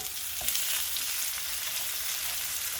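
Tomatoes frying in a pan for a simple breakfast give a steady, close sizzle with a faint scrape of stirring partway through; nobody speaks.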